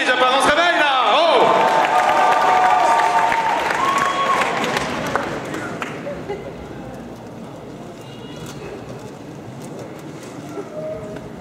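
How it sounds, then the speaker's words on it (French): An audience at a French cosplay contest selection at Japan Expo applauds a contestant. Dense clapping and crowd noise swell, with bright tones over them at first, then slowly thin out and fade across the stretch. "Je vous demande d'applaudir très fort une Élyséenne."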